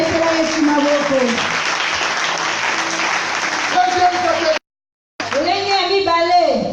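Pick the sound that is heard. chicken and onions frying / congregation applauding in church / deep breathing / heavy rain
congregation applauding in church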